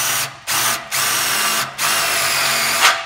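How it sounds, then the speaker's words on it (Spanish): A power drill with a countersink bit whirs loudly in short bursts while countersinking screw holes for hairpin table legs, stopping briefly three times between runs, with a rising whine at the final burst. "Y ahora vamos pasando el avellanador."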